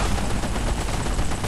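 Rapid automatic gunfire in the Tom Clancy's Ghost Recon: Future Soldier video game, a dense, loud continuous burst of overlapping shots with no talking.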